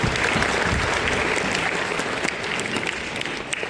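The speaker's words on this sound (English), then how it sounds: "a round of applause for them" Steady audience applause at a school spelling bee competition for classes five and six, filling the room evenly and loudly from start to finish with no voices breaking through.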